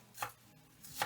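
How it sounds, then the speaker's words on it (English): Two sharp knife chops on onions against a cutting board, near and distinct, spaced close to a second apart in a quiet kitchen. "So I'm chopping up some onions"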